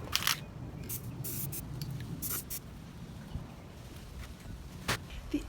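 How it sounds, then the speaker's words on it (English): Short hissing bursts of green aerosol spray paint sprayed inside a jar, several quick sprays with pauses between, close by over a low background rumble. "I'm just going to use green paint, spray it on the inside of the jar."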